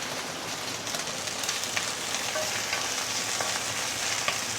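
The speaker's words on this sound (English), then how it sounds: "we can put in all the fresh herbs first, and we're going to saute it a bit for the flavor to release" Fresh herbs sizzle steadily in hot oil in a pan, a continuous loud crackling fry with occasional pops, heard close up with no talking.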